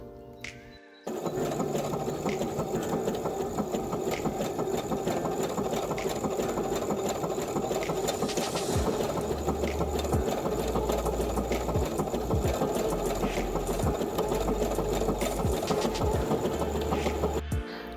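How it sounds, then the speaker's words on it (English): A sewing machine runs steadily for about seventeen seconds, stitching fabric for a cosplay glove, its fast needle rattle close and even with a few brief pauses and no talk. "now that you've got your stitching done"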